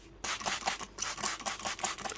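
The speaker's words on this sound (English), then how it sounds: "Let's see what happens if I spray the roots." A series of short hissing sprays from a spray bottle onto orchid roots, about seven or eight quick bursts in an uneven rhythm, close by and fairly loud.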